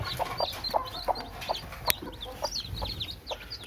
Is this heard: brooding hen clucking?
yes